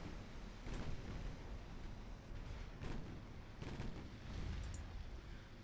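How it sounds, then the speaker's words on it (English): Heavy naval guns firing in the Ultimate Admiral Dreadnoughts warship game, a few booming reports breaking through a constant dense rumble of battle noise. "It's only the first couple of ships that are opening fire right now."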